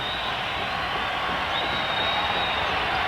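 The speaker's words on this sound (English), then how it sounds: "Crowd very much into it." A basketball arena crowd at a UNM Lobos versus Fresno State game roars in a loud, continuous wash of cheering that holds without a break.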